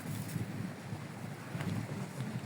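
Steady wind on Cheung Chau island rushes across the microphone as a low, continuous roar with faint gusty swells, no voices heard.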